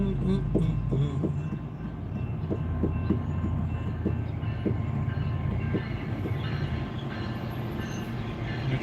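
A train rolls past with a steady heavy rumble, repeated clicking wheel clacks and faint squeals, fairly close and continuous, with no clear talk over it.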